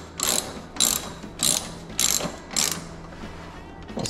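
Ratchet wrench tightening a bolt on a Royal Enfield Himalayan motorcycle luggage rack, five or six quick clicking strokes at an even rhythm, close and crisp, with no talking.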